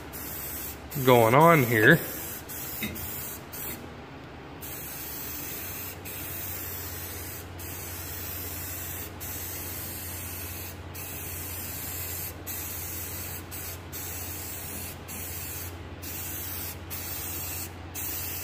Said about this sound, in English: Just using a rattle can for this stuff like this.